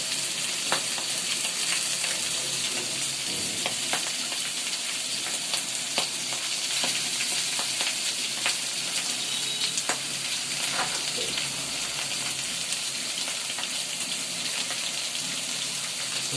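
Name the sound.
large fish head frying in oil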